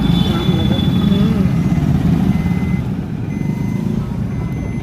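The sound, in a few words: road traffic jam with trucks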